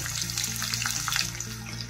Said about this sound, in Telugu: తాలింపు గింజలు వేగిన తర్వాత ఒక పెద్ద సైజు ఆనియన్స్ వేసేసుకోవాలి.